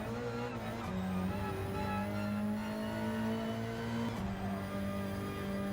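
A race car in the Gran Turismo 7 driving game, its engine droning steadily at high revs, briefly lifting and shifting pitch twice before throttling back up, loud and continuous with no speech.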